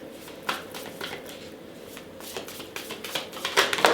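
Tarot cards riffle and shuffle close by in a steady run of soft papery flicks and slaps, growing busier and a little louder toward the end, with no one talking.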